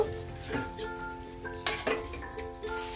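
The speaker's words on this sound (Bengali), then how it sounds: "ফুলকপিটা অ্যাড করে দিলাম দিয়ে ভালো করে নাড়াচাড়া করব মশলাটা যাতে ফুলকপির কাছে লেগে যায় ভালোভাবে" Cauliflower pieces being stirred through frying masala, with a few distinct scraping clinks of a utensil against the pan over a low sizzle and some soft musical tones, close and brief.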